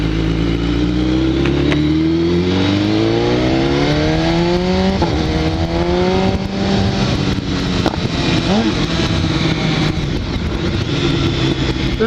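A Kawasaki H2 motorcycle being ridden hard, its loud engine note climbing through repeated rising pitch sweeps with brief breaks at each quick-shifter upshift, continuous and close under heavy wind rush, with no talking.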